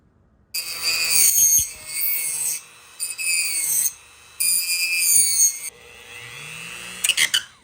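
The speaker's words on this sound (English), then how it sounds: "I'm just going to try to Dremel out that little tab" A Dremel rotary tool grinding away a small plastic tab on a 4Runner, a loud, high whining buzz that runs in several bursts with short pauses between, close up and alone.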